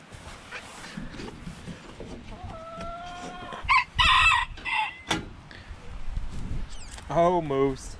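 Rooster crowing on a farm where goats are being rescued, several loud close crows with harsh breaks, over background chatter and people talking.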